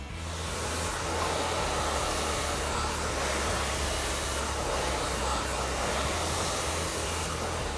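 A hair dryer blows steadily while thick hair is dried and brushed, giving a continuous close, loud airy roar with no speech.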